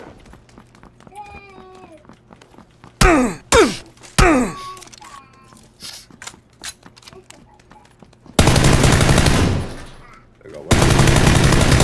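Gunfire in PUBG: several sharp shot bursts early on, then sustained loud rapid firing near the end, with players talking and shouting over the action.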